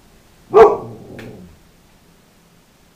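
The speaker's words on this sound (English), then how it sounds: "I was rudely interrupted by my dog." A pet dog named Shadow lets out one sharp, loud bark close by, followed by a short rough tail of sound that fades into quiet.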